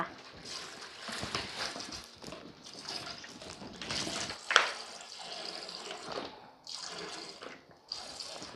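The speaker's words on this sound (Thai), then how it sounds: "บีบลงไปอีกขวดหนึ่งทั้งหมดเป็นสองขวดนะคะ น้ำปลา" Fish sauce squeezed from a bottle into a pot for a cooked fermented fish sauce, a close, wet stream of splashing and gurgling liquid in uneven bursts, with some talking mixed in.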